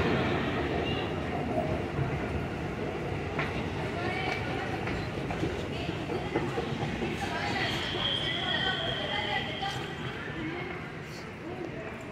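Metro train ride near Mandai station, a continuous low rumble and rolling hum of the moving carriage throughout, loud and steady with a slight fade at the end.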